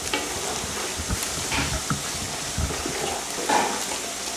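Pork and ravitoto, Malagasy cassava leaves, stirred in a frying pan, a steady loud sizzle with scraping spoon strokes through it, close up and without talk.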